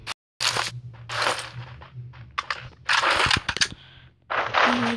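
AKM assault rifle gunfire in the Rules of Survival video game: several loud bursts of rapid automatic shots separated by short pauses, with a few single cracks in between.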